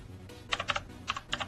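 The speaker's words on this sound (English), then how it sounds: "Just typing." Someone types on a computer keyboard at a desk, making short bursts of crisp key clicks in an uneven rhythm, close by and fairly quiet over a low background hum.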